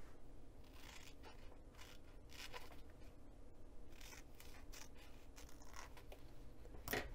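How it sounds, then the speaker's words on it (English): Scissors snip through fabric to cut out a dart for a clutch purse, giving a run of quiet, close cuts with a sharper snip near the end and no talking. "now it's time to cut the dart out."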